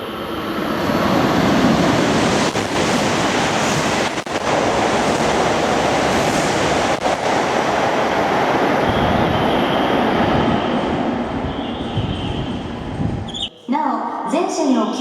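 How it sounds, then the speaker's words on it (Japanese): A Tohoku Shinkansen train roars through Mizusawa-Esashi station at high speed, a loud sustained rushing wash that fills most of the time before cutting off abruptly, with a platform announcement heard near the end. "まもなく1番線を電車が通過します。"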